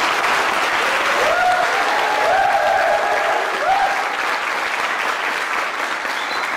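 Strong audience applause at a Korean scout summer festival ceremony during a flag presentation, a loud steady roar of many hands clapping, with a faint voice or tone drifting beneath it.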